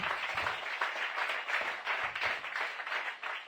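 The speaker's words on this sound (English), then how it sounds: "A mighty clap offering to the Lord." A church congregation gives a loud, sustained round of applause as an offering to the Lord, a dense wash of many hands clapping together with no one speaking over it.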